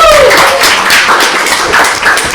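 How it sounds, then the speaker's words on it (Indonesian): Applause and clapping from a seated audience at a live podcast recording, a short burst of many hands striking together, loud and close, with faint voices mixed in. "tepuk tangan untuk kita semua"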